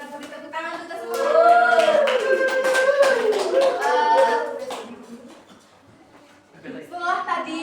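A classroom group claps together, a dense patter of hands mixed with cheering voices, loud and close, fading briefly before picking up again.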